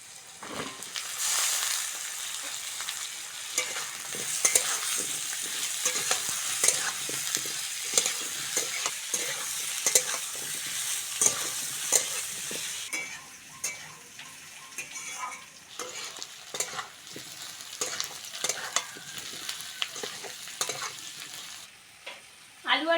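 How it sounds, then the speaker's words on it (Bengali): Chopped onion and washed, cut potatoes fry in oil for a fish curry, giving a steady close sizzle with repeated scraping and stirring clicks. The sizzle eases somewhat toward the end. No one speaks. "ওই তেলের মধ্যে কুচনো পেঁয়াজ দিয়ে দেবো পেঁয়াজটা হালকা করে ভেজে নিয়েছি কেটে ধুয়ে রাখা আলুটা দিয়ে দেবো"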